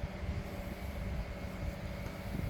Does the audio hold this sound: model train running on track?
yes